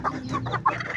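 A hen clucks while sitting on her eggs to lay, giving short, close, fairly loud cackling bursts in an uneven rhythm with no talking.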